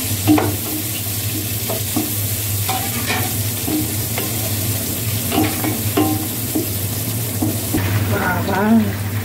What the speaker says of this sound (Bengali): দিয়ে দিলাম ক্যাপসিকাম, এটাকে আমি হালকা একটু ভেজে তারপর টমেটো দিয়ে দেবো।